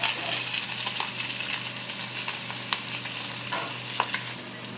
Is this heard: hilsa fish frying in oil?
yes